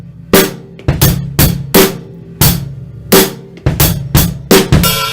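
A drum kit plays a steady beat, bass drum and snare hits alternating with crisp cymbal splashes, punchy and close, with no voices.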